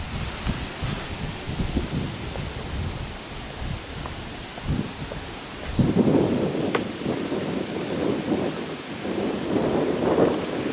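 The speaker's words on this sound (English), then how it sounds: "the storm will kick in a few moments" Thunderstorm rolling in over Rohia monastery in Romania after a hot day: steady rain patters throughout while low thunder rumbles build and swell from the middle onward, loud and close, with no voices.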